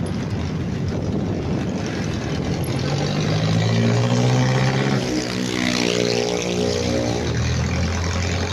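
A jeepney drives by on a city road in the Philippines, its engine droning loud and close and rising in pitch as it passes, with steady traffic rumble around it.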